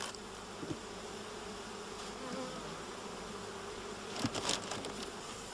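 Honeybees from a shook swarm buzz as a steady, faint, close hum, with a few louder passes of single bees near the end.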